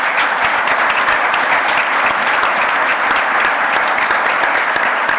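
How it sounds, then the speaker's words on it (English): Audience at a commercial real estate business forum gives the panelists a sustained round of applause, dense even clapping from a sizable crowd for several seconds with no talk over it. "Let's give our panelists a big round of applause."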